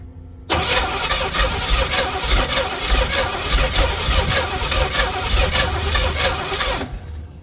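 A Pink Jeep engine cranking after reassembly without firing: a loud, close, rhythmic starter churn that begins abruptly, pulses evenly for about six seconds, then stops.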